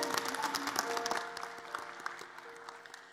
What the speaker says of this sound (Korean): 우리와 함께 하나님께 감사와 영광의 박수 올려드리겠습니다.